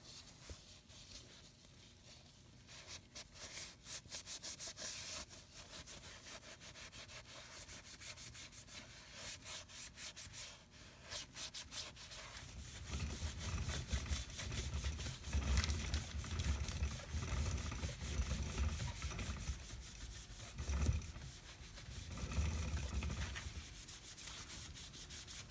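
A car wheel is scrubbed with a brake dust eraser pad and foaming gel, lifting baked-on brake dust. Rough, rasping back-and-forth rubbing is close up, growing heavier and more forceful in the second half.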